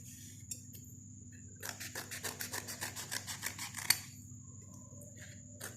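Scissors snip strips from a soft foam sheet, a run of quick, rhythmic cuts and rustles close by for a couple of seconds, ending in a sharp click, with quiet room hum before and after.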